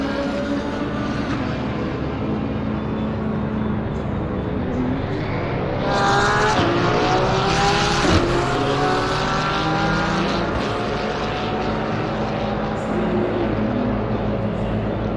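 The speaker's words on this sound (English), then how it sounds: "Lots of McLarens out here tonight. Here you see it going by right there." A McLaren GT3 race car at a Caribbean GT3 Championship round in Barcelona sweeps past as a loud, steady engine roar that swells and climbs in pitch around the middle of the pass, then eases back into continuous track noise.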